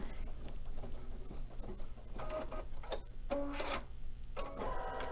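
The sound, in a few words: embroidery sewing machine stitching applique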